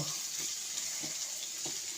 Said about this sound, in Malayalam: ചെറുതായിട്ടൊക്കെ ഒന്ന് ഇളക്കി അതിൻ്റെ ഒന്ന് പച്ചമണം മാറുന്നതിന് വരെ ഒന്ന് ഇളക്കി